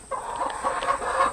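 Rhode Island Red hen clucking in short, repeated calls at close range, a soft steady run of farmyard fowl sounds with no talking over it.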